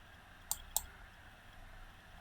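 A computer mouse gives two quick, crisp clicks about a quarter second apart in a quiet room during CAD work, then a faint steady hum.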